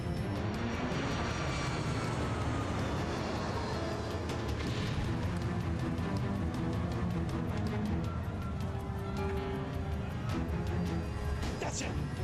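An airliner dives steeply with its landing gear lowered, a loud, continuous engine and air roar holding steady throughout without a break.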